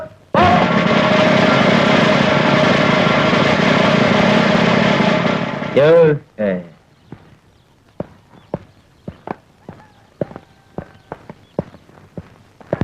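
A motor runs loudly and steadily for about six seconds, then cuts off abruptly. After that come scattered light taps and footsteps in a quiet space.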